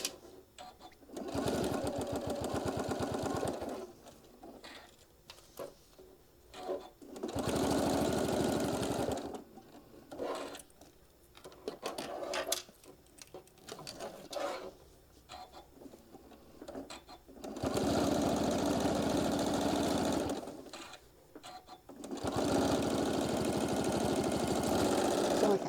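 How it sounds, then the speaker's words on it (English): Sewing machine top stitching fabric for a mini iron travel case, running in several sustained whirring bursts separated by short pauses, close and steady with no talking. "We're just top stitching all the way down."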